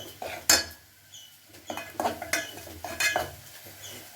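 Spice masala roasting in a pan for a rustic spicy mutton sukka: a soft low sizzle under sharp, irregular metal clinks and scrapes as a spoon stirs and knocks against the pan.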